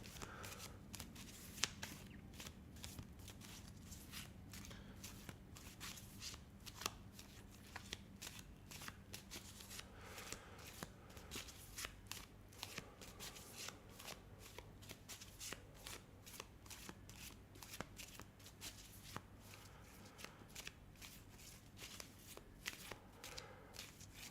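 A deck of tarot cards is shuffled over and over, producing a faint, continuous run of soft flicks and riffles close by with no talking.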